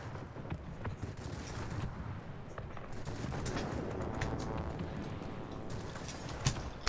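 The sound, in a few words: big cannon hit in World of Warplanes video game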